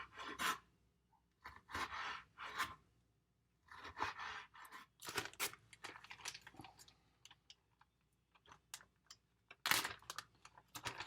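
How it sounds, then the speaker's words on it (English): A knife slices peppers into quarter-inch pieces on a cutting board, a series of crisp close cuts and scrapes in short bursts separated by quiet pauses. "carefully, I'm just going to go and cut them about 1/4 inch slices"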